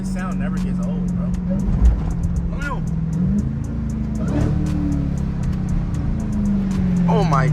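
A Dodge Hellcat engine drones steadily in traffic, its deep rumble swelling slightly toward the end, while people talk and exclaim loudly over it.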